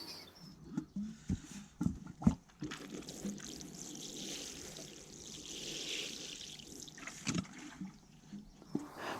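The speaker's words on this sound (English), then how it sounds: "The next step is just to give them a top water." Water pours and trickles over compost-filled seed trays from a watering can outdoors, a soft fluctuating splash that swells and fades over several seconds, with occasional knocks and handling clatter and no speech.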